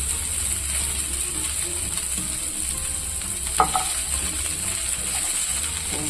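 Garlic frying in oil in a pan for pepper chutney, a steady close sizzle with a faint high background whine and one small clink of a utensil partway through, no voices.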